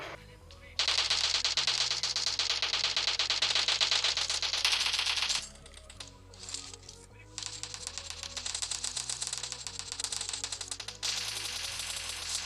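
Sustained automatic gunfire from a shootout in the mobile game PUBG Mobile, rapid dense bursts running for several seconds, a brief pause, then more firing alongside game sounds.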